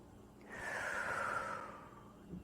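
A single long, airy breath during a breathing exercise, a soft drawn-out rush rising and fading close to the microphone against a quiet background, without talking.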